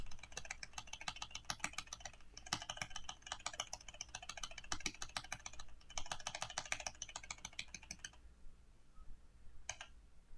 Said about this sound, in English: You're going to be able to hear me press them. I have Cherry MX Reds, right?